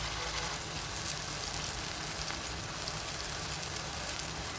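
Meat and onions fry in a pot with a soft, steady crackling sizzle, fairly quiet and even throughout.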